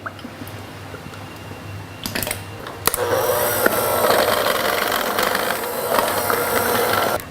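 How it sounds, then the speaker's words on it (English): Chilled heavy cream pouring into cream cheese for a raspberry Paris-Brest filling, beginning with a few faint drips and taps, then a steady, fairly loud liquid splashing and gurgling that lasts several seconds. "Pour in 2 cups of very well chilled heavy cream."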